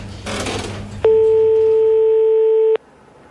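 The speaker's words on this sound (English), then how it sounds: "The Panthers are dialing the security line right now." A steady electronic telephone line tone sounds alone for under two seconds in a radio drama, after a short burst of faint noise, then cuts off abruptly.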